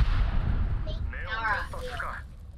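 A grenade explosion in Apex Legends: a heavy, rumbling boom right at the start that slowly fades, while players talk over the tail.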